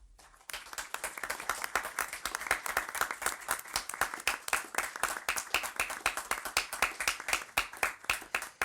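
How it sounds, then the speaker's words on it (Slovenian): An audience applauds the co-editors at a book presentation, a sudden burst of many hands clapping that settles into steady, rhythmic, moderately loud applause lasting throughout. "En aplavz prosim za oba."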